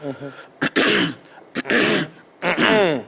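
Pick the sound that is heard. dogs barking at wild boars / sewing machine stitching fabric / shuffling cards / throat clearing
throat clearing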